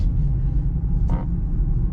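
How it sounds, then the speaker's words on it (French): Audi RS3 8V2 gently accelerating on its own through a roundabout, heard from inside as a steady low engine and road rumble with a brief brighter swell midway. "La voiture, elle accélère un peu dans le rond-point."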